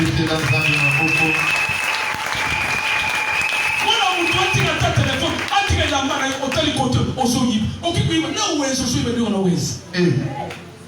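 A church congregation claps and cheers in sustained, dense applause for about eleven seconds, with voices and scattered shouts mixed through the clapping.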